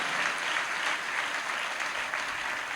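A church congregation claps during a Punjabi-language sermon, a full, even wash of many hands applauding steadily throughout, with no voices over it.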